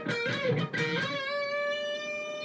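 An overdriven electric guitar plays a phrase from a solo, with a few quick picked and bent notes up front, then one long sustained note ringing with vibrato, loud and close with no voices.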